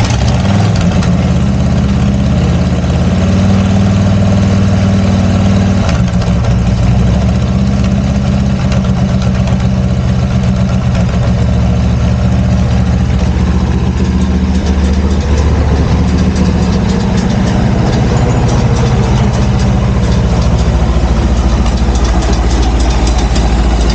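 Harley hardtail project chopper engine turning over and settling into a loud, steady idle, a deep continuous rumble held close throughout with no voices.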